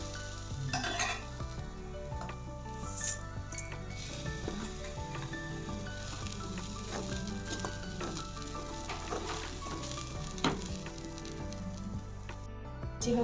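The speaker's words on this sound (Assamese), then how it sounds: "এতিয়া মই ডালিয়াখিনিও দি পেলাই অকণমান ভাজি লওঁ" Broken wheat (dalia) frying in a pan with oil and green chillies, stirred steadily by a spoon: a continuous sizzle under repeated scraping and clinking of metal against the pan, close and fairly loud throughout with no talk.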